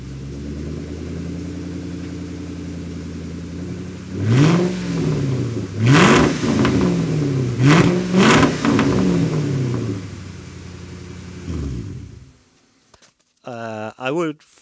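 A Ford Mustang SN95 Cobra with a muffler delete idles loudly nearby, then takes four or five sharp throttle blips that flare and fall back before the engine shuts off near the end.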